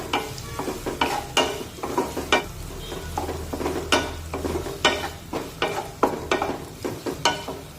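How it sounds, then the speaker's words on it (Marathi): Finely chopped onion fries over a medium flame in a pan, with a steady sizzle under repeated close scraping stir strokes that recur every half second or so; no talking. "हा कांदा सुद्धा छान तांबूस रंगावर परतून घेऊया"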